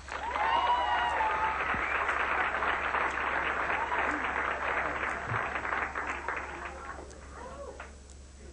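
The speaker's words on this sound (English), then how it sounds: "Let's have a nice round of applause," A theater audience applauds a comic magician as he is introduced, a dense, sustained wash of clapping that starts loud and gradually thins and fades toward the end.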